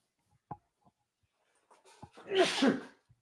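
A single loud, close sneeze bursts out during a podcast recording, preceded by a few faint clicks and a brief breathy intake.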